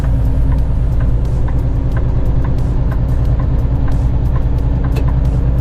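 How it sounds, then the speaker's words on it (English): Road traffic surrounds a vehicle driving through town: a loud, steady engine drone and road rumble dominate, with faint passing whooshes and ticking sounds layered above, and no talk. "Watch out, traffic. I'm coming in hot."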